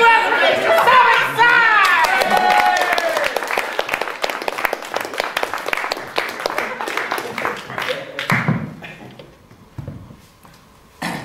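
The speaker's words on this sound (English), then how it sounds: "would you give a big round of applause?" Crowd applause and cheering at a Walpurgis night gathering, loud and lively with whoops and voices mixed into dense clapping, gradually thinning toward the end.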